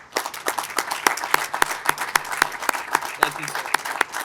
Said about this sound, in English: Please join me in a round of applause for the Department of Rail and Public Transportation and the Virginia Department of Transportation.